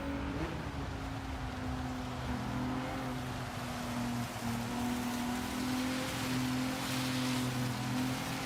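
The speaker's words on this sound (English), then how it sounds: "Who thought of bringing rain?" Rain falls on the track during a Gran Turismo 7 race, a steady hiss of wet spray under the continuous droning hum of a car engine, with no talking.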